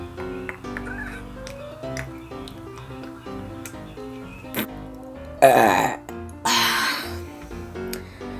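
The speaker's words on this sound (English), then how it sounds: "I'm also great at burping." Two loud, raspy human burps arrive in quick succession near the end, after a stretch of quieter tonal background sound.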